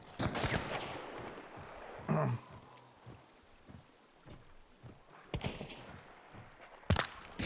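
Gunfire in the video game Hunt: Showdown 1896, sharp scattered shots cracking out at irregular intervals, some close and loud, others more distant, with quiet gaps between them.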